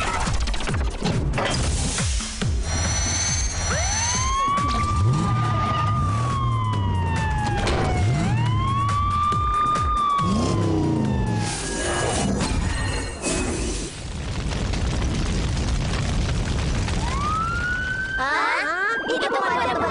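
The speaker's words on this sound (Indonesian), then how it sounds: "Itu pemadam kebakaran datang." A cartoon fire truck's siren wails in rising and falling sweeps, loud and close, repeating several times amid crashes and busy animated sound effects.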